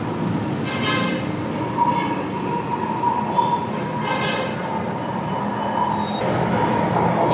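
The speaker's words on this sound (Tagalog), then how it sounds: "Diyan na yung train." A metro train pulls into a station on the Baclaran to PITX line, with a steady rumbling roar of railcars and a few faint brake squeals over the platform ambience.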